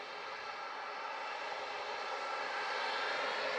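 An airplane at Sangster airport in Montego Bay, Jamaica, makes a steady broadband engine roar that grows slightly louder toward the end, with no voices.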